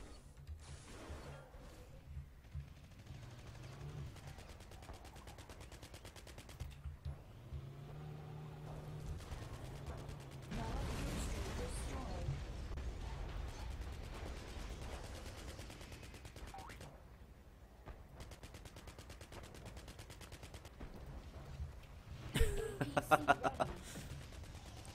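Gunfire from a Humvee in the Renegade X game, a Command & Conquer remake, with rapid mechanical bursts and clattering running through most of the stretch and a sharper volley near the end, mixed with game sounds and voices talking.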